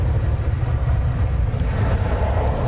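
A Boeing 737-800 airliner departing Dallas Fort Worth for Guadalajara, heard as a loud, steady jet engine roar with a deep rumble that holds throughout without voices.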